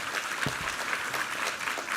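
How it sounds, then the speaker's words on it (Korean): Clapping from a Korean Sunday worship congregation offering applause of praise to God, an even, dense patter of many hands at moderate volume with no clear speech. "우리 하나님께 감사 영광의 박수 올려드리겠습니다"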